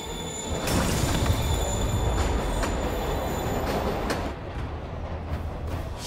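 A train runs loudly in the Spider-Man Remastered video game, a steady rumbling roar with squealing wheels and metallic clatter, heard alone without talk.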